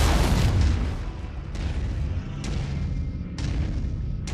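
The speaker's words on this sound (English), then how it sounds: "Die Autocannon macht das schon." An autocannon firing in MechWarrior 5: Mercenaries, a heavy boom followed by a rolling series of repeated blasts under a dense roar of battle noise, loud and continuous.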